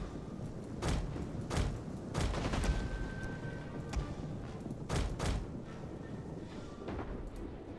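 Ballista artillery firing in the video game Rome 2 Total War, a series of heavy thumping shots spaced unevenly over a low rumbling battle background.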